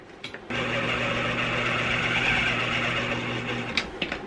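A food processor purees polenta ingredients with a loud, steady motor whir and hum that runs for about three seconds, then stops.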